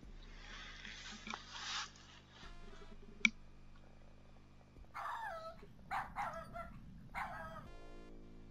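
Several bursts of dog barking from a King's Quest 7 game scene, moderately loud, with game sound effects and ambience between the barks and a sharp click partway through.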